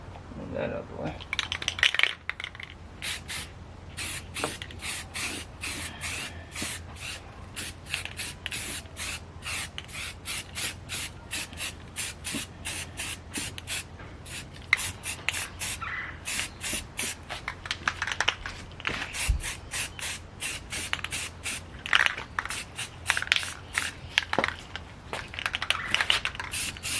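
A spray can lays a light primer coat onto a valve cover from a 1989 Dodge D100, in a long run of short hissing bursts with brief gaps, fairly close, with little talk.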